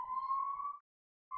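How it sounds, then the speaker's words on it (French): Steady wailing siren tone from an emergency vehicle outside, loud and close, holding for most of a second, cutting out briefly, then returning. "désolé pour la sirène derrière"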